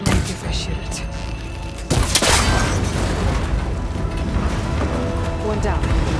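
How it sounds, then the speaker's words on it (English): A shot breaks a cable connector in the video game Horizon Forbidden West. A sudden booming impact lands about two seconds in, followed by a dense, sustained mechanical clatter and rumble. "That connector's holding the cables together. It should break if I shoot it."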